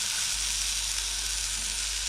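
Pork faggots frying in a pan, giving a steady, close, unbroken hiss of sizzling fat with a constant low hum underneath and no talking.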